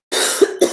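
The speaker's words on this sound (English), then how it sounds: "The fact that I'm coughing right now," A single close, sharp cough after a brief silence, followed by a short second cough.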